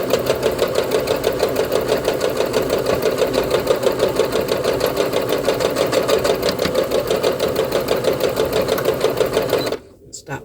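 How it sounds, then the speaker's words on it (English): A sewing machine runs steadily, stitching a beginner's fabric seam in a close, loud, continuous rattling hum for about ten seconds before stopping abruptly near the end. "I'm just going to let it sew."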